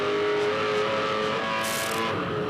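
Onboard 2006 Supercars race car engine at Darwin, a loud, close roar with a steady high tone and a brief rise in intensity near the end, heard alone without speech.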